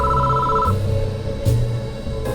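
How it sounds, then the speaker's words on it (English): A phone ringing inside a security station in the video game Spirit Hunter: NG, a loud electronic ring tone sounding in short repeated bursts with brief gaps, close and alone. "Suddenly a phone rings inside the security station."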